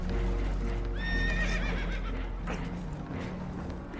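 Spooked horses whinny in Red Dead Redemption 2 aboard a boat that is taking on water. One shrill, quavering neigh rises over a steady loud rumble, with clattering hoof-like knocks and faint voices mixed in.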